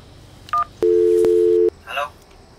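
A telephone is dialed, with a short beep followed by a longer steady keypad tone broken by a brief click, close and clear, and then a voice briefly speaks.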